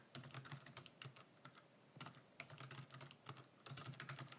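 Steady typing on a computer keyboard, quick clusters of key clicks with short pauses, close and fairly quiet.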